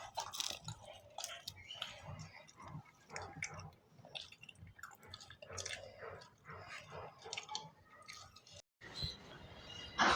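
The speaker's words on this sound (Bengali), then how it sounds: "চা এটা এখন পরোটা দিয়ে ভিজিয়ে খাবো।" Close, wet chewing and biting of tea-soaked paratha, steady smacking bursts for several seconds with a short break near the end, mixed with faint background voices.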